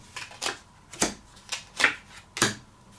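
Playing cards dealt one at a time for a dealer's-choice poker game, five crisp snapping slides spaced about half a second apart, close and fairly quiet in a still room.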